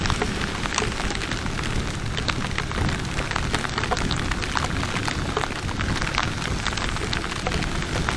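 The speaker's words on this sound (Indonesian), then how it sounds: "Tapi hujannya luar biasa ya ini. Malah hujan gede ya." Heavy rain pours steadily on a motorcycle ride, a dense loud hiss of drops drumming on gear and surfaces without letup, with no voices over it.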